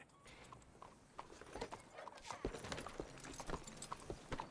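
A horse in the video game Red Dead Redemption 2 walks along, its hooves clip-clopping in a steady, uneven rhythm of distinct thuds that grow louder toward the end.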